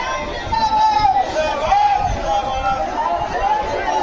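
Dense crowd at a Yogi Adityanath election rally in Narpatganj, Bihar, a loud steady outdoor babble of many voices with a sustained tonal drone running beneath it throughout.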